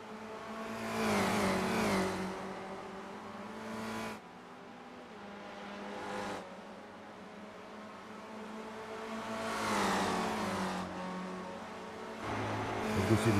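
Race car engines in a sim racing video game rise and fall in repeated high-revving surges, with gear shifts and cars sweeping past in waves, loud and unbroken by talk.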